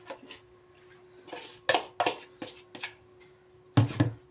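Kürtőskalács dough being mixed in a bowl, a series of irregular clattering knocks and scrapes of utensil against bowl, some louder bursts near the end, with a steady faint hum underneath.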